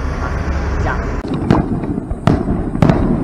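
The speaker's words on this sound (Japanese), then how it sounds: "今日本当たまたまなんですけれども、泉市の方で花火大会がありました。" Fireworks at a fireworks festival in Izumi city burst in the distance with several sharp cracks and booms spaced apart, over a continuous rumbling crowd and ambient noise.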